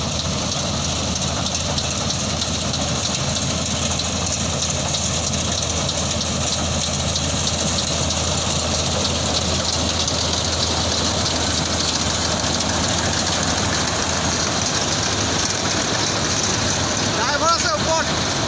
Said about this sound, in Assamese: আজি প্ৰথমবাৰৰ বাবে শদিয়াৰ নতুন গাঁৱত মেচিনে ধান কাটিছে